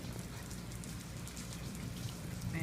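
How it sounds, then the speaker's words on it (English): Rain falls steadily, the first rain of the season in a place with swaying palm trees, a soft, even patter of drops on surfaces with no voices. "I love the rain."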